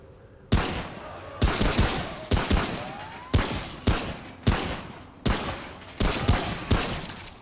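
Gunfire in the action shooter Remnant: From the Ashes, about eight heavy single shots at a steady interval of roughly a second, each a loud sharp crack with a short decaying tail, alone with no talk.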